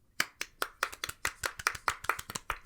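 A lone pair of hands clapping a dozen or so times in a quick, slightly uneven rhythm, sharp and close, with no voices.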